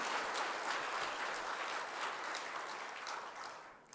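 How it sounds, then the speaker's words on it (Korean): A church congregation claps together during a Sunday service, a dense steady patter of many hands in a large room that carries on for several seconds before thinning out at the end. "오늘 박수 한번 쳐줄까요?"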